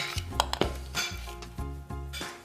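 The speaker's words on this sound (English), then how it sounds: "I just grab an ice cream scoop here" An ice cream scoop digs into soft banana-coconut ice cream and taps a dish, with a few muffled scraping strokes and light clinks, close and fairly quiet.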